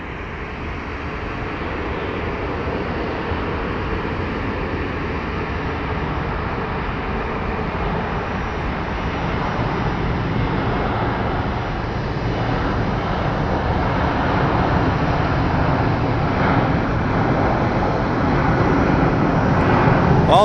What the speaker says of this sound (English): Our Baltimore plane is just chilling here, about to get clearance to taxi or be on a roll.